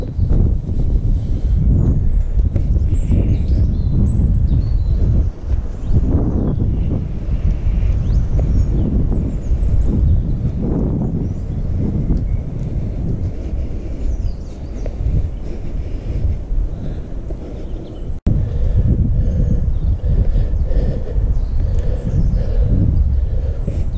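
Stormy wind gusts roar and buffet the microphone continuously on a walk toward the abandoned Oertelsbruch quarry settlement in Lehesten, loud and rumbling throughout with no clear talk.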